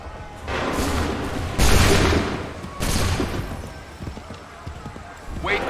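A musket volley fired on command in Assassin's Creed 3 battle, with several loud, broad bursts a second or so apart over a busy ambience of horses and shouting voices.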